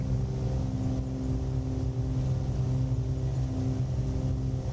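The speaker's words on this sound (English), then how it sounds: "so we've got full throttle here" Single-engine propeller aircraft engine in Microsoft Flight Simulator 2020 at full takeoff throttle, a steady loud droning hum with a constant low tone throughout.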